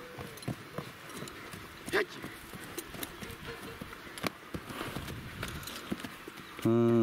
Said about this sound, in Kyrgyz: Курч экен, бирок жаман чоң ат экен.